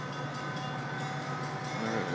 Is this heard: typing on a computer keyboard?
no